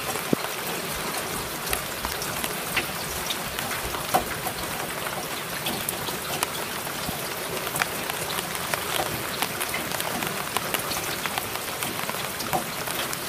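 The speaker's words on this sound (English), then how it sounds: "the ducks give thanks for the rain." Steady rain falls on a farm where ducks are kept, a dense, even patter with scattered louder drops hitting surfaces, continuous and fairly close throughout with no talking.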